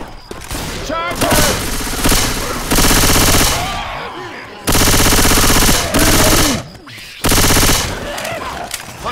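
Automatic gunfire in Left 4 Dead 2's carnival campaign comes in several sustained, loud, rapid bursts separated by short gaps, with voices calling out between and over the shooting.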